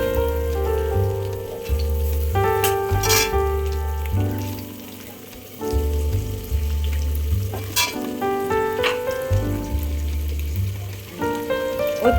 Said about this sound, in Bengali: মিক্স ফ্রাইড রাইসের জন্য ও ডিমটা ভেজে নিচ্ছে